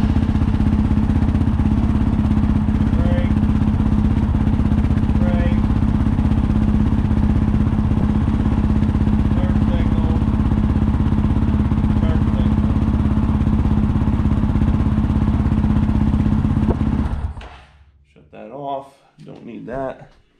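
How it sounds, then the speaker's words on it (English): A Honda CRF450L motorcycle engine idles steadily and loudly up close for about seventeen seconds, with a constant low drone, then cuts off and leaves a few scattered noises. "I would come here, start the bike up."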